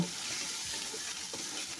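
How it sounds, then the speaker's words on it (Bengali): Soft sizzling of ginger-garlic paste frying in a pan, with faint stirring scrapes, close and steady for a couple of seconds. "ভালো করে একটু ভাজা ভাজা করে নেব"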